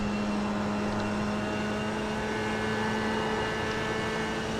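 An F3 race car engine in the iRacing sim at Watkins Glen holds a steady, muted, droning tone at constant pitch throughout, fairly loud and alone with no voices.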